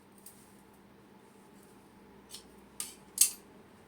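Scissors snipping through blouse fabric while cutting sleeves in a tailoring session, a few short crisp snips near the end, quiet and close, with a soft faint click earlier.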